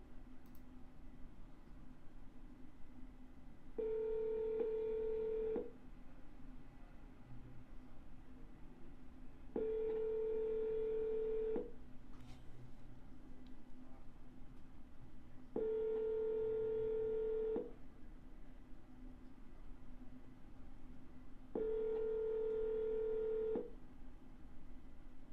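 Four evenly spaced bursts of telephone tones, each about two seconds long, sound over a quiet line hiss. The tones are clear and repeat at a regular rhythm.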